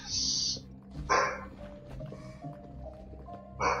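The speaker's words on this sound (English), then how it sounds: "my dog is barking after the neighbor" A pet dog barks at a neighbor in short, loud bursts, one at the start, another about a second later and a third near the end, over faint background game tones.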